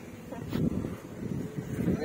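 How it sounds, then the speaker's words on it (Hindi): Wind gusts across open ground outdoors under a darkening, cloudy sky, producing a steady low rumble and buffeting against the microphone while someone talks over it. "देखिए मस्त हवा चल रहा है इधर"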